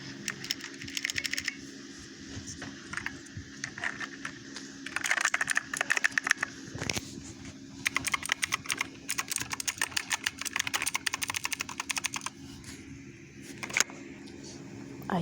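Steady clicky typing on a mechanical keyboard with blue switches, a continuous patter of sharp keystrokes over a low constant hum, recorded close with rough quality.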